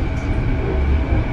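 A subway metro train in Vancouver rumbles steadily from inside the carriage, a loud continuous low roar with rattling noise and no voices.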